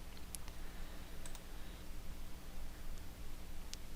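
A few faint, sharp computer mouse clicks land on a search filter, spaced irregularly over a steady electrical hum and background hiss.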